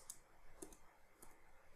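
A few soft keyboard clicks sound while typing code in VS Code, isolated taps spaced apart, quiet and close with no talking.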